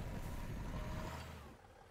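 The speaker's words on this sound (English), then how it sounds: "big propane truck" A big propane truck engine rumbles loud and close with heavy low-end drive, steady for about a second and a half before easing off and fading slightly toward the end.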